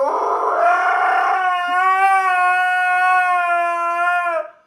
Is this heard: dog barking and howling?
yes